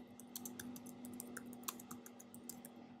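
Keys clack on a computer keyboard as a command is typed, a quiet run of uneven taps over a steady electrical hum.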